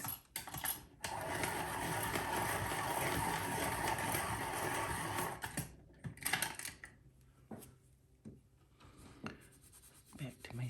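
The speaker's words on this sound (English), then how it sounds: "Sharpen this, sorry for the noise." A colored pencil being sharpened, giving a sustained grinding, scraping rasp for several seconds, then a few scattered clicks and scrapes as it stops, with a voice briefly present.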